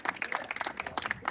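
Scattered hand clapping from a small outdoor community gathering on a neighbourhood walk, a brief burst of moderate applause with irregular claps.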